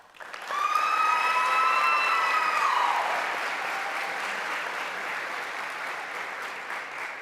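Loud, dense applause fills a hall at a veterinary medicine white coat ceremony, rising quickly and holding steady throughout, with a bright sustained tone drifting over the first few seconds.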